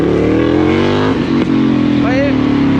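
Close, loud BMW GS 1250 motorcycle engine droning and revving continuously, with a brief dip in the roar before it picks back up.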